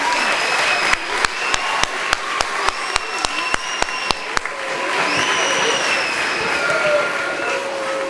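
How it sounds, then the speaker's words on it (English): An audience at a lower school spring concert applauds in a steady wash of clapping, with a few sharp, distinct claps standing out near the front and voices faintly mixed in. "Can we give one round of applause to Mr."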